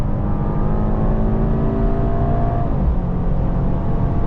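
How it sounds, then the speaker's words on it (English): A 2026 Mercedes-AMG GLE 63 S engine roars steadily at full throttle on the German Autobahn, loud and close, with a continuous low rumble and rising whine, no voices. "Hear the engine roaring and full throttle again."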